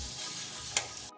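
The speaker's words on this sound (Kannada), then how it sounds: "ಈಗ ಈ ಎಲ್ಲ ಇಂಗ್ರೀಡಿಯೆಂಟ್ಸ್ನು ಚೆನ್ನಾಗಿ ಮಿಕ್ಸ್ ಮಾಡ್ಕೋಬೇಕು" Corn pakoda ingredients with chilli paste and asafoetida are mixed together, giving a steady, soft, wet stirring rustle with one sharp click near the end before it stops abruptly.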